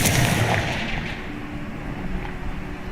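A Confringo blast spell goes off in the Hogwarts Legacy video game, a loud, booming burst at the start that trails into a rumbling, crackling decay.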